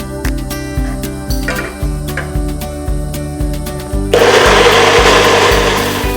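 Blender whirring through katsu curry sauce ingredients, running steadily and loudly throughout with a rhythmic pulsing texture, growing harsher and brighter in the last couple of seconds as the blades catch, with music-like tones running underneath.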